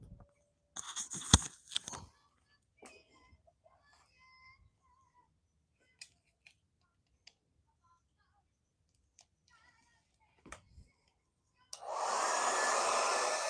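A hair dryer roars on loudly and steadily near the end during a silk-screen printing session, after a long quiet stretch of faint clicks and handling noises.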